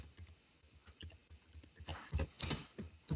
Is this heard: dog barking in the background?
no